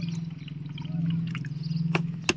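Water that rinsed black gram (urad dal) is poured out in a steady close trickle, with a low continuous hum underneath and a couple of sharp clinks near the end.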